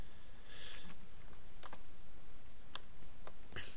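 Someone types a command on a computer keyboard during basic network troubleshooting, producing a few sparse, light key clicks spread irregularly over a faint, steady background hiss.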